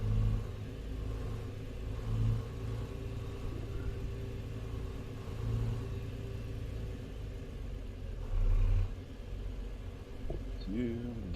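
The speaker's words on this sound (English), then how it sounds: "We're running Z mods for the engine sounds today." Modded truck engine audio in a trucking simulator game, a low steady diesel rumble with a few swells of revving, running under someone talking.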